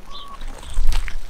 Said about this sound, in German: Ja, die ganzen Hühner kommen noch.